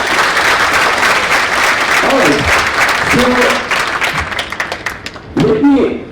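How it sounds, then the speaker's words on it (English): A conference audience claps in a loud, continuous ovation that tapers off toward the end, while a voice speaks briefly over the applause. "Big round of applause to East Mojo."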